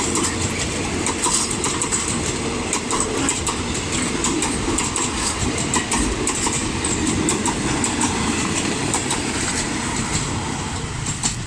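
GEA locomotive 4558 hauling a suburban passenger train past a road-rail crossing, a loud continuous rumble of wheels with rhythmic clickety-clack over the rails throughout, no voices.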